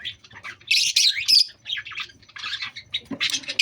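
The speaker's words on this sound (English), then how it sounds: "And that is my lovebirds." Pet lovebirds of several colours squawk and chirp in repeated shrill, harsh bursts, close and fairly loud, with short gaps between calls and no talking.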